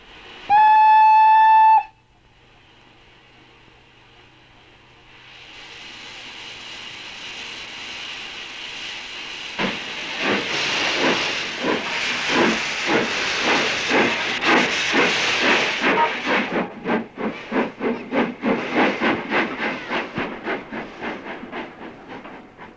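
A steam train pulls into a station with a loud, sustained hiss of venting steam, opening with a short whistle-like tone before the hiss swells, then breaks into rapid rhythmic chuffing bursts as it slows.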